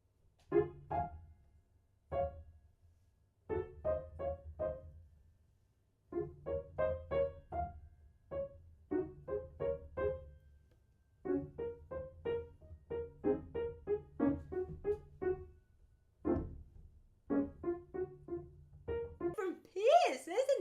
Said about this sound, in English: we make the articulation staccato, and then the piece sounds like this.